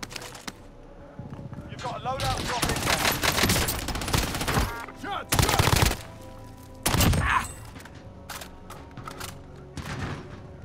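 AK-47 fire in Call of Duty crackles in long dense bursts and sharp separate volleys, loud and close, with people talking in between.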